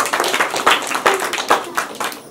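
Guests at a Nepali Christian wedding clap in a loose, uneven burst, with separate hand strikes audible as the applause rises and falls, fairly close and with no talk over it.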